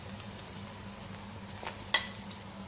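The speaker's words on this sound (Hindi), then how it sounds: "इसी तरह पूरी चिकन में फ्राई कर लूँगी।" Pieces of chicken fry in hot oil for bang bang chicken, a soft steady sizzle running throughout with a few small crackles and one sharper pop near the end.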